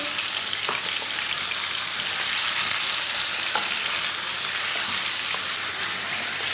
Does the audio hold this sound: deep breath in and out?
no